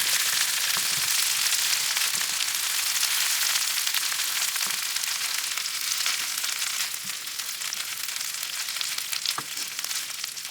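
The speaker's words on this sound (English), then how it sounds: "we're just gonna cook this down a bit" Breakfast sausage cooking down in a pan sizzles steadily and loudly for the whole stretch, a dense crackling hiss with occasional pops and stirring.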